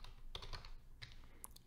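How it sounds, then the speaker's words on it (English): Keys tapped on a computer keyboard while entering an expression in DaVinci Resolve Fusion, a short run of light, irregular clicks close to the microphone over a quiet background. "We're gonna type in"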